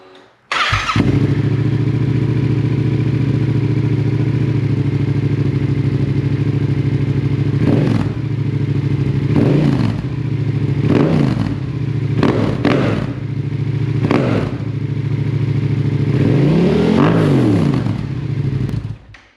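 A Yamaha R7 motorcycle fitted with a Yoshimura R-77 exhaust idles loudly and steadily up close, then gets several sharp throttle blips that rise and fall, with a longer rev near the end.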